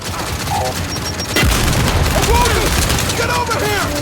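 A frag grenade blast and a burst of rapid gunfire in the Gears of War 5 video game, with a sharp boom followed by crackling fire and swooshing effects, and a voice shouting over the action.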